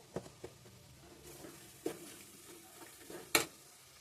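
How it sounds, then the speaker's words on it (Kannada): Chili powder and turmeric fry in a pan for mango pickle, giving a soft steady sizzle broken by several sharp scraping stir strokes, close by, with no talking. "ಖಾರ ಪುಡಿ ಸೇರಿಸ್ಕೊಂಡು ನೀಟಾಗಿ ಫ್ರೈ ಮಾಡ್ಕೋಬೇಕು"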